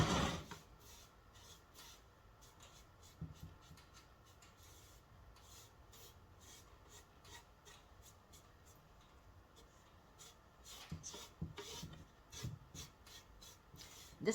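Fine-grit sandpaper, 180 or 220, rubbed over the wood of an old pie safe, a faint continuous scratchy rasp of repeated back-and-forth strokes, swelling louder near the end.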